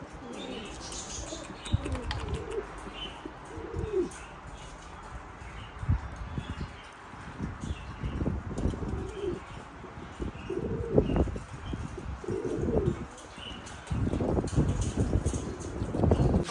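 Pigeons in a loft giving soft, repeated low coos, interspersed with occasional wing flaps and faint chirps, moderately close within a busy ambient background, with no talk.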